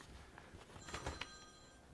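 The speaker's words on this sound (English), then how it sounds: "Could whoever's phone is ringing," A mobile phone ringing during a Conservation Commission public meeting, several faint rising tonal bursts over quiet room noise, no talk.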